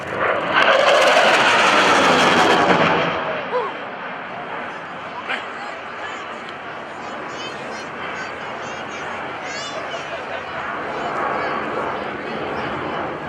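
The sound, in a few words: QF-4E Phantom jet flying at an airshow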